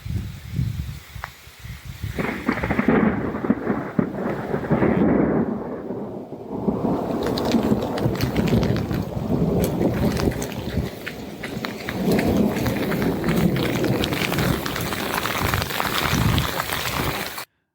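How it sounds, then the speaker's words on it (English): Heavy thunderstorm in town along the Colorado Trail, with steady pelting rain and rolling rumbles of thunder filling the scene continuously, loud and close, with no talking. "still getting pelted by thunderstorms and rain and lightning and thunder."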